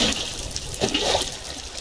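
Water being poured onto a sleeping villager in Minecraft: a steady game splash-and-flow rushing sound, close and moderately loud, swelling slightly midway and continuing throughout without voices.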